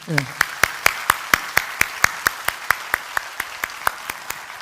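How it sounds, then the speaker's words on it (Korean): Rhythmic unison clapping from a Sunday church congregation thanking choir members and volunteers, about twenty steady, evenly spaced claps at a brisk beat, with a brief voice at the start. "섬겨주시는 모든 분들에게 우리 감사의 박수 한번 보낼까요?"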